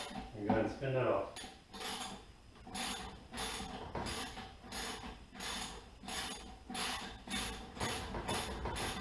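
Spinning a part off during the teardown of a 1972 Honda Z50 minibike, with a regular series of metallic ratcheting clicks and clinks repeating roughly every second, close and moderately loud.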